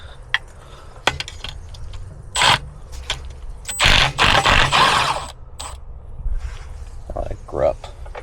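A hand tool cranks loose oil pan bolts on a Toyota 22RE engine, giving scraping, ratcheting and clanking bursts of metal, close by and uneven, with a person speaking at times.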